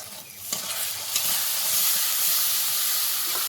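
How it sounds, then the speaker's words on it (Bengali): Turmeric water hits a hot pan while cooking banana-flower curry, setting off a sharp burst of hissing that swells into a loud, steady sizzle and steam for a few seconds before cutting off abruptly. "হলুদ জল দিয়ে দিচ্ছি আমি"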